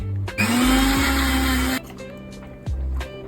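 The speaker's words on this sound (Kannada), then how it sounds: "ಈಗ ಎಲ್ಲವನ್ನು ಸೇರಿ ಮಿಕ್ಸಿ ಮಾಡಿದ್ದೇನೆ" A mixer grinder whirs loudly and steadily for over a second while blending green chutney with ice water, then cuts out, followed by a brief second burst of the motor.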